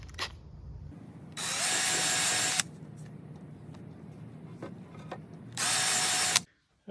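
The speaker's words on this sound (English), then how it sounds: "Now I'm just going to countersink the holes." Two loud, steady drill bursts of about a second each countersink holes in a wooden canoe mast, separated by a few seconds of quiet handling clicks and low room noise.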